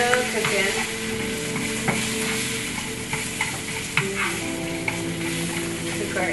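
Asparagus cooking in a hot pan gives a loud, dense, continuous sizzle close by, with occasional stirring clicks and no talking.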